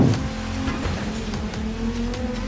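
A race car engine drones continuously in a driving video game, with brief tire squeals and shifting engine pitch over a steady roar, no voices.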